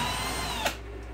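A power drill whines steadily while backing out a screw in a tiny home shed, then cuts off abruptly with a short click just past half a second, leaving a faint hum.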